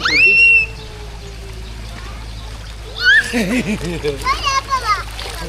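Children splash and play in water, with a voice and high squeals over busy splashing sounds.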